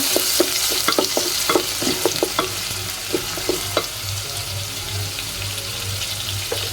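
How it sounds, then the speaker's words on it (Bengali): Chopped onion and garlic fry in oil for a pui shak dish, giving a loud, steady sizzle with frequent light taps and knocks of a spatula stirring through the pan. "এখন কেটে রাখা পেঁয়াজ আর রসুনটা আমি দিয়ে দিব। ভেজে দিব।"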